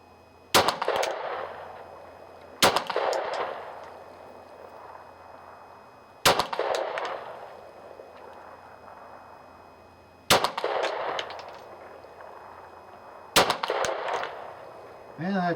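Ruger SR9 pistol firing Winchester 115 grain ammunition outdoors, five loud sharp shots spaced a few seconds apart, each with a short decaying echo.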